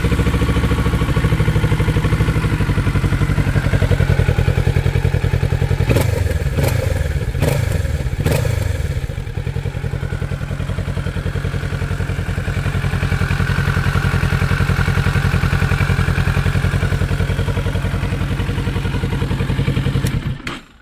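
A 2024 Kawasaki Ninja 650 KRT with its stock exhaust idles steadily and close by for the full run, a few clattering thumps breaking in early before the engine note settles into an even, mellow hum.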